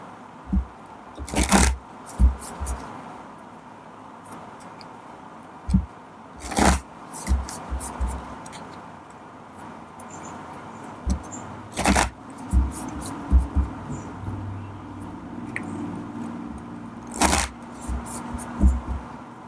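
Tarot cards are shuffled in several quick riffling bursts, separated by quieter pauses with soft handling sounds, close by.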